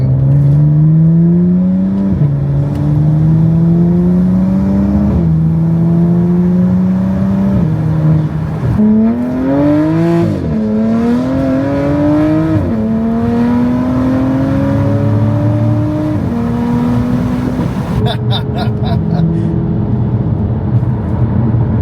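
BMW F8X with a valvetronic exhaust, revving through repeated climbs in engine pitch and dropping back between pulls, loud and close, with a raspy tone and a quieter stretch near the end.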